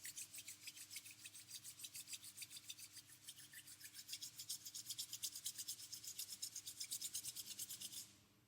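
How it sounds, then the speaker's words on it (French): Two palms rubbed briskly together during a hatha yoga session, a close, soft, rhythmic swishing that speeds up and grows louder before stopping abruptly near the end. "On frotte les mains l'une contre l'autre."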